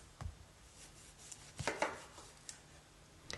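A knife cutting limes on a cutting board, a few soft separate thuds and scrapes spaced irregularly, faint and close, with no talking.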